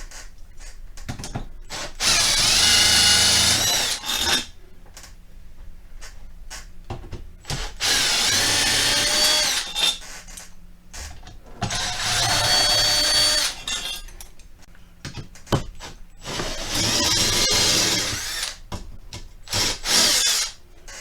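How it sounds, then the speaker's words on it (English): A power drill with a 5/16 socket backs out the screws on the metal flange of a Coleman Mach 3 RV air conditioner. There are four loud whirring bursts of a few seconds each, with quieter clicks and handling noise between them. "Our next step is to take the metal flange off. We're going to use a 5/16 socket to do that."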